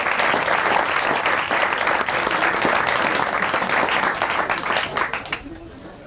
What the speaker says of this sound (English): let's give all of us a round of applause for this special day